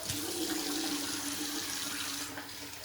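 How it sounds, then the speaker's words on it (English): Tap water runs steadily into a sink while a face is rinsed mid-shave, a continuous close splashing hiss that eases slightly near the end. "Rinse the face and lather up."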